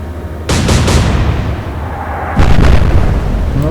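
Naval shells strike a warship in the Atlantic Fleet naval combat game. A quick cluster of three heavy booms lands, then after a pause one more big blast rolls out, all loud and close with no talk.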